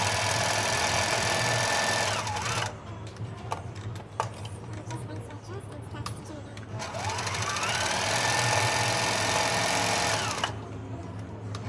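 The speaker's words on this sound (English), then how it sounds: "and then stitch all the way down to the second side, all the way to this pointed side" A sewing machine stitches a scrap-fabric bow cover in two long loud stretches of rapid, even whirring and ticking, separated by a quieter pause with small clicks.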